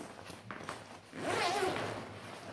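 A J-shaped zipper on a hiking backpack is pulled open in one smooth, rasping run lasting about a second, close to the microphone after a few light handling clicks.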